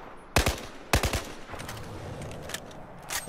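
Gunfire aimed at barrels on the Battlefield 4 test range, two loud close bursts of rapid shots followed by scattered quieter single reports and echoing tails, with no talk.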